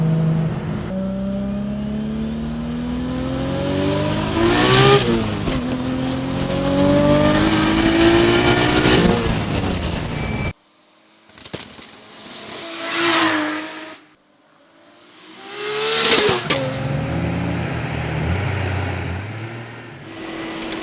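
A 1200hp BMW E36 M3 sleeper accelerates hard through the gears, engine pitch climbing loudly between shifts, then two further close, roaring pulls with brief quieter gaps between them.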